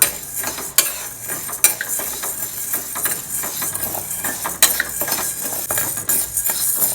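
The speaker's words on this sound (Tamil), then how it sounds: "அதனால் கொஞ்சம் இப்போ மீடியமாகவே வச்சுட்டு வறுத்துக்கலாம்." Lentils for paruppu podi dry roast in a pan over a medium flame as a spoon stirs them, giving continuous close scraping and rattling with frequent metallic clinks against the pan. No one speaks.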